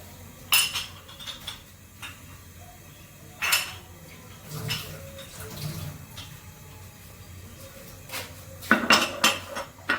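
Dishes being washed in a home sink before tea is made: clinking pots and cutlery with bursts of running tap water, close by and alone, at an irregular pace.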